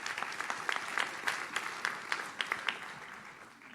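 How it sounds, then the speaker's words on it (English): Audience applause at a law school academic awards ceremony, a steady wash of many hands clapping in a hall, with a few nearer, sharper claps standing out. It holds for nearly four seconds with no voices over it. "Please join me in a round of applause for her."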